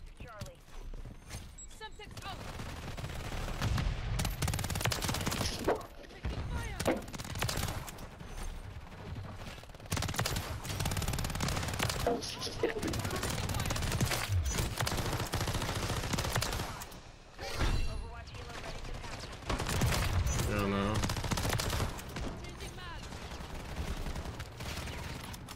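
Rapid bursts of gunfire crackle through a Call of Duty MW3 multiplayer match, dense and continuous with mechanical clatter, while a player talks over the action.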